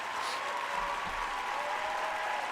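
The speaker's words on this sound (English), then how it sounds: "Crowd goes wild again." A crowd applauds and cheers in an Elasto Mania replay, a steady wash of clapping held at an even level throughout with a faint tone running underneath.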